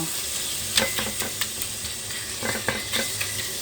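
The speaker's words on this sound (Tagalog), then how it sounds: "Iprito muna natin ng medyo brown-brown ito" Pork ribs browning over medium heat in a pan give a steady sizzle, broken by several sharp scrapes and clinks as a utensil stirs and turns the meat.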